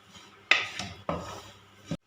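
Gram flour (besan) scraped and stirred in a pan for besan ladoo, with a few distinct rasping, scraping strokes of a spoon against the pan, each fairly loud and close, separated by short pauses.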